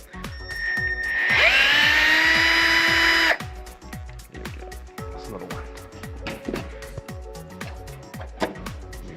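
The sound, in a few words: power tool removing the top shock absorber mount bolt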